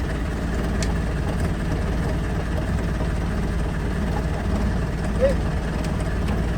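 A boat's engine idles steadily at low pitch with a constant rumble, while a person says a brief word over it.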